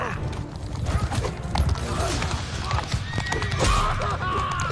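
A horse neighs and hooves clip-clop amid clashing battle noise in the modded medieval combat game Mount & Blade II: Bannerlord, with someone talking over the steady, dense din.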